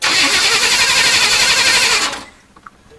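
A 1977 Corvette engine, run with no exhaust fitted, catches and runs loudly at a steady roar for about two seconds, then cuts off abruptly, leaving faint clicks and quiet.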